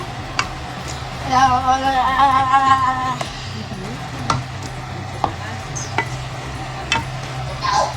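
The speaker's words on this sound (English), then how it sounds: "Right, let's give it a stir." A spoon scrapes and clinks around a pot of lamb stew, with soft sizzling underneath and a few sharp ticks and taps, while a person talks briefly over the cooking.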